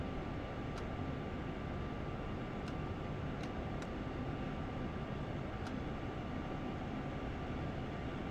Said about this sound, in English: Passenger train, pass it by.